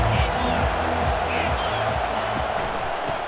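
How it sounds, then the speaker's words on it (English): Stadium crowd noise from the EA Sports College Football video game fills the whole stretch as a dense, steady roar of cheering fans, with a low rhythmic chant or drum pattern underneath. "This crowd trying to make life miserable for this offense."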